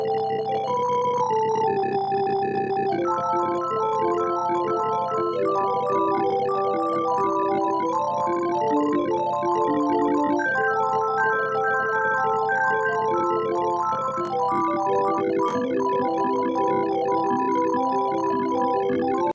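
A synthesizer runs through a rapid, busy sequence of notes, jumping around in a steady rhythm for a long stretch with no talking.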